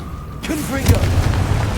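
Confringo fire spell blast from Hogwarts Legacy, a booming explosive burst about halfway through, with a voice over it and game ambience continuing around it.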